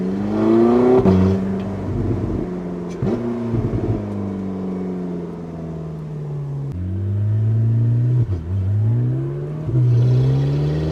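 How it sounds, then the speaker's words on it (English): The engine of a Porsche 918 Spyder, a racing-derived hybrid hypercar, heard from inside as it rises and falls through the gears. Each smooth climbing whine breaks off at a shift, under part throttle and without any talking. "Wow, these noises. Absolute racing engine."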